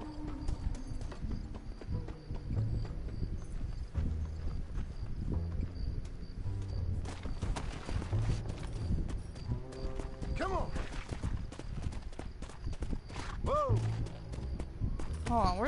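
Horse hooves clip-clop steadily over continuous game music and ambience in Red Dead Redemption, with voices talking at times and a whinny near the end.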